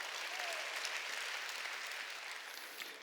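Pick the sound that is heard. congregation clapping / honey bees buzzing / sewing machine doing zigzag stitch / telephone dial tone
congregation clapping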